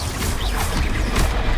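Spell impacts from Stupefy, Glacius and Confringo striking in a Hogwarts-themed action game, a dense, crashing burst of magical blasts and whooshes piling together over a brief moment.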